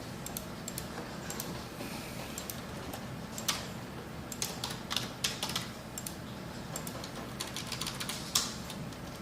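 Steady typing on a computer keyboard at a PC, faint and close, irregular clusters of soft key clicks over low room hiss, no voice.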